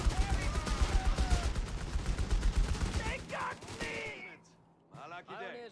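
A German MG42 machine gun in Company of Heroes 3 rattles out a long, rapid, rhythmic burst for about three seconds before tapering off, followed by scattered battle sounds and a brief voice.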